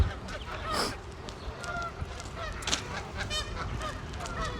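Geese honking by Wascana Lake in Regina on a March walk, several calls rising and falling at moderate distance over steady outdoor ambience and light wind.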